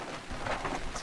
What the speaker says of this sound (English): Man, you can hear that rain.